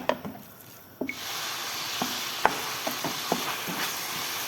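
Soft continuous sizzling of minced meat frying in a pan, with occasional light clicks and scrapes of stirring; no voices.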